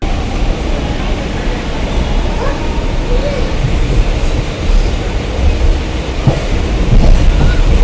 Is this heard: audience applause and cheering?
no